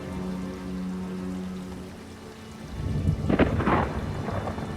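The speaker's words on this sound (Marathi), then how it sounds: "तिसऱ्या रात्री जोराचा पाऊस सुरू झाला" Heavy rain pours steadily in a thunderstorm, with a deep rolling thunder rumble building midway and crackling through the downpour; no voices.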